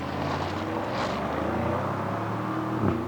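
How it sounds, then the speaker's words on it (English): A petrol Audi SQ7 engine drone rumbles steadily throughout, rising slightly near the end, with no voices. "this car produces a really good sound too"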